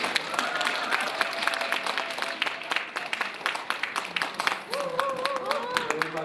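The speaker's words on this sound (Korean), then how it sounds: "네, 박수 부탁드리겠습니다." Sustained audience applause at an early childhood education lecture welcoming a professor, dense overlapping claps throughout, with a voice beginning to speak near the end.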